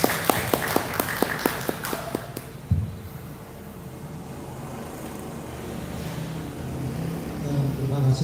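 An audience at a village youth skills training event applauds the minister with quick, even clapping for a couple of seconds, then a thump and a low, steady room rumble.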